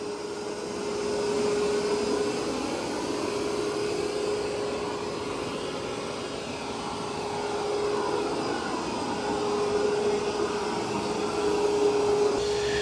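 An ECOVACS DEEBOT N20 Plus robot vacuum cleans a floor with a steady, moderately loud whooshing hum that has a faint whine and rises and falls slightly as it moves, with no voices.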